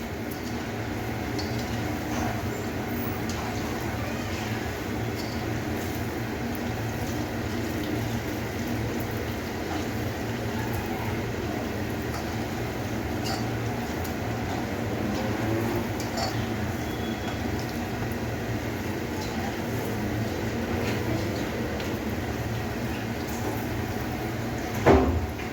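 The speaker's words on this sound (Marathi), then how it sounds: "आता याला तळून घेऊया. गोल्डन ब्राऊन होईपर्यंत आपल्याला तळायचे आहे." Dal bonda frying in hot oil until golden brown, giving a steady, dense sizzle and crackle that continues without a break, with faint clinks near the end.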